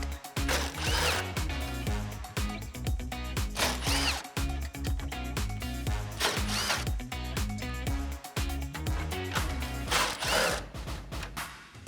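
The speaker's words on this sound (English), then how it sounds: "With your 10mm socket, get these removed." A ratchet with a 10mm socket backs out the top grille bolts on a 2007-2013 Chevrolet Silverado 1500, giving rapid repeated ratcheting clicks in bursts with short pauses, loud and close.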